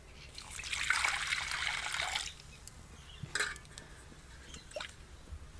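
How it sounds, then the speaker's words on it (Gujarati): Water trickles and pours into bhajiya batter of homemade gram flour, salt, coriander-cumin and red chilli powder, a close, soft splashing stream for about two seconds followed by a few faint drips and wet squishes. "આમાં પાણી નાખી દઈ"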